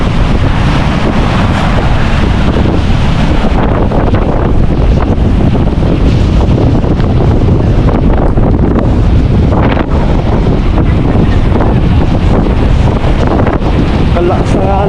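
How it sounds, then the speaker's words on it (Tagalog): Strong waves and gusting wind at a river mouth during a typhoon, heavy surf crashing continuously with loud wind buffeting the microphone; a voice is faintly present under the roar. "Kalakas ng alon."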